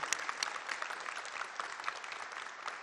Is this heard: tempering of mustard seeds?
no